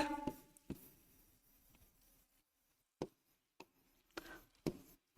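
Writing on a board during a maths lesson on polynomials: short, sharp strokes come in scattered bursts separated by quiet gaps, faint and close, with no talking.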